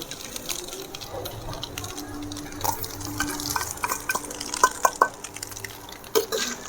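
A spoon scrapes and stirs a ground coconut and chana dal mixture in a pan, producing soft repeated scraping with a few sharp metallic clicks against the pan, close and moderately loud.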